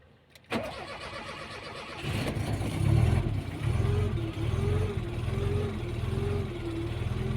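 A Tofaş car engine is cranked for the first time in five days, catching after a brief starter whir and settling into a loud, steady idle close by.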